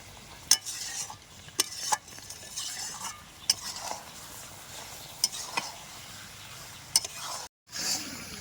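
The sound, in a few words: stirring mango pickle in a pan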